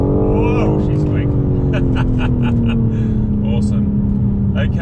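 A BMW M4 Competition accelerates hard, its engine note rising steadily and loud, with people talking over it.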